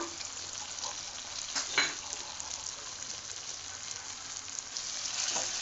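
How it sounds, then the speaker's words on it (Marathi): Paneer chilli sautéing in a pan with chilli sauce and red chilli powder, a steady moderate sizzle with intermittent spatula scrapes and stirs, no talking. "आणि हे चांगले आपण परतून घेणार आहोत"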